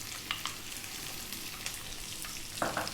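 Fennel seeds and onion fry in olive oil in a pan, making a soft, steady sizzle with a few light crackles and pops, heard alone at low level.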